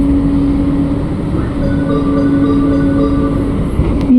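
An LRT Jabodebek train rolls into Halim station with a steady interior rumble and a sustained electric motor whine, then a short squeal near the end as it slows.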